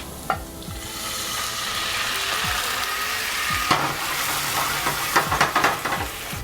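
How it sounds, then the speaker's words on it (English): Garlic and white wine sizzling in a pan while being deglazed: a steady, close frying hiss with scraping and stirring clatters, a few sharper bursts near the end. "Then we're gonna deglaze it with about a cup of white wine."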